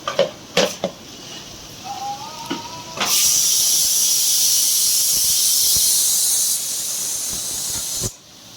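Chopped fenugreek leaves hit a hot frying pan for mango dal, first with a few light knocks and a brief squeal, then a loud, steady hiss of steam and sizzle that runs for about five seconds and cuts off abruptly.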